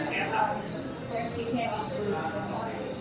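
Crickets chirp in steady high pulses over a dense wash of insect noise, with faint talking mixed in underneath.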